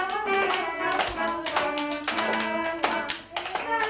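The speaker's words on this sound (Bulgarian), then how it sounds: "Я да видим как пляскате" Children clap their hands along to a festive song at a Christmas party, a steady run of sharp claps sounding under a tuneful sung melody throughout.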